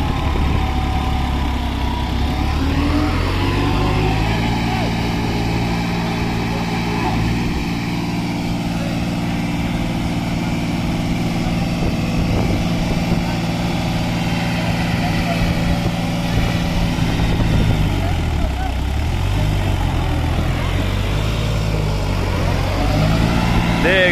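New Holland 3630 4x4 tractor engine labouring loudly and steadily while climbing out of a pit, a continuous heavy drone that shifts pitch partway through.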